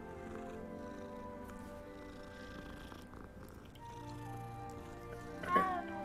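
A cat purring in the game Hogwarts Legacy, a soft low continuous rumble under quiet background music and faint game sounds, with a brief brighter sound near the end.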